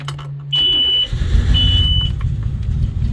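A beep sounds, then a boat engine with water in its fuel cranks and catches, settling into a loud, steady idling rumble.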